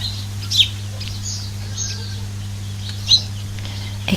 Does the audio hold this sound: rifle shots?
no